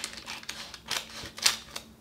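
Scissors snip through paper laid over baking paper, a run of short, crisp cuts in an irregular rhythm, close and fairly quiet.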